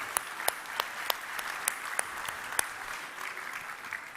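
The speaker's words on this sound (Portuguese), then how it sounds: "dando um aplauso para ela" Applause from a church congregation during a sermon, thinning out into scattered, sparse claps with a few sharp individual hand claps standing out over a quiet room tone.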